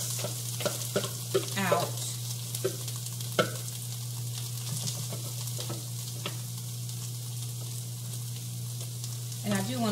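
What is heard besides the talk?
cauliflower rice frying in hot canola oil in a pan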